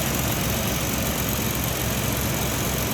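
A 1966 Ford Mustang Fastback's 289 V8 idles close by, a steady, rumbling, smooth continuous drone with no breaks or revving.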